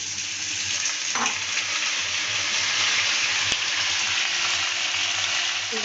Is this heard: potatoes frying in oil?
yes